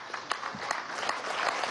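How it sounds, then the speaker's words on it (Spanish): Audience applause at an Expo Venezuela Produce event in Acarigua, a short burst of scattered hand claps that stays fairly faint and rises slightly toward the end. "Bueno, mi aplauso"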